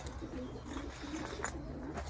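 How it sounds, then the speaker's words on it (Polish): Pigeons coo softly in a short repeated pattern at a backyard loft in Poland, faint and fairly close under low background hum, with no talking. "Już nawet te gołębie się ciągną za mną wszędzie"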